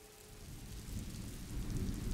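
Rain pours steadily with a deep rolling rumble of thunder building in loudness during a stormy scene in the video game A Plague Tale: Innocence, with no speech.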